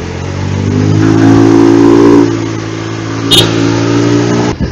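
A motorcycle rides along a road in Taytay, Sulangan, Guiuan, Eastern Samar, its engine droning steadily and swelling louder midway before easing off, with a brief sharp click near the end and no voices.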